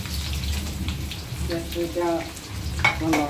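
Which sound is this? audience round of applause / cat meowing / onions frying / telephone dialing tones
onions frying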